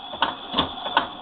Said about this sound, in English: I'm now winding the bobbin using the treadle pedal and the treadle belt.